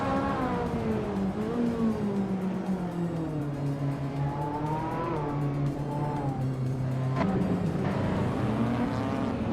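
Race cars on track at Circuit of the Americas in a racing game, led by a 1994 Ferrari F355 Berlinetta F1: a loud, sustained engine roar rising and falling through gear changes as the pack drives close together.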